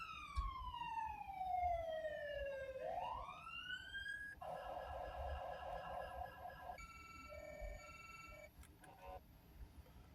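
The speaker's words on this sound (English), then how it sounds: "The sirens." Police car sirens in a roleplay video game wail with a sweeping tone that dips and rises, then switch to rapid yelp and stuttering warble patterns, fairly faint, with a voice talking underneath.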